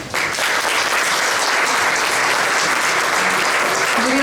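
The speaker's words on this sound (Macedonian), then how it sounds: "заслужува еден голем аплауз" An audience applauds at a book promotion event, with sustained, dense clapping that stays loud and steady from start to finish, with no talk over it.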